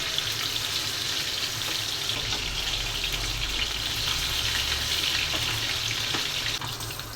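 Hilsa fish fries in a pan for a bhuna dish, a loud, dense, continuous sizzle of hot oil close to the microphone with no voices.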